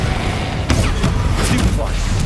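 An Incendio fire spell goes off in Hogwarts Legacy, with several sharp whooshing bursts and low booms over dense game noise, and a voice speaks during the clip.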